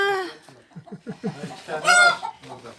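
Farmyard chickens clucking in a rural village, a string of short close clucks followed by a louder drawn-out squawk, with scattered voices nearby.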